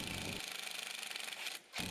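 A power driver whirs steadily as a screw is driven into a front door frame, a continuous buzzing run of about a second and a half that cuts out briefly and then starts again.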